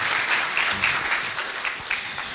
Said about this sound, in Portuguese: Vamos receber o nosso pastor com a salva de palmas